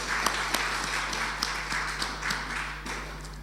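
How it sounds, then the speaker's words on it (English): Applause for a presentation by primary and junior high school youngsters at a Heart Month launch: a thin, moderate patter of clapping from a small group, individual claps audible, steady throughout over a low electrical hum. "we would just like to really give you a special hand of applause for that"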